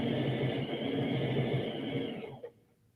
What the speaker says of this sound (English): A little speed sewing for you.